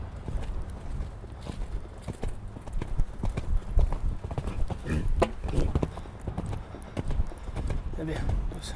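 Horse hooves clip-clopping in a steady walking rhythm during a riding lesson, moderately close, with a coach talking over the hoofbeats throughout.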